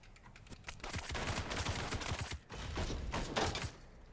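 A turret in the roguelike game Caves of Qud fires quiet, rapid crackling bursts in two runs with a brief gap between them, then stops.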